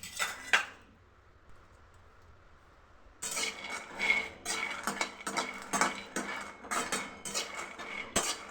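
Peanuts dry-roasting in a pan, stirred constantly to keep them from burning: a quiet opening with a couple of knocks, then a busy, close rattle and scrape of nuts and spoon against metal that goes on without pause.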